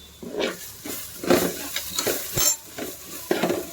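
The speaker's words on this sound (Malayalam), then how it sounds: "എല്ലാം കൂടി ഇട്ട് വാട്ടണം സ്വല്പം മഞ്ഞൾപ്പൊടി" Ingredients with a pinch of turmeric powder sautéing in a pan for chicken curry, with steady sizzling and several scraping stirs close by, no talking.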